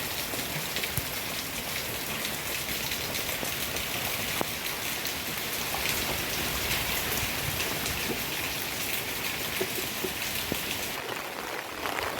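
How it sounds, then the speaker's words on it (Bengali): Heavy rain from Cyclone Remal pours down as a dense, steady hiss of drops on surfaces, unbroken and fairly loud throughout with no voices. "ভীষণ ঝড় বৃষ্টি হচ্ছে।"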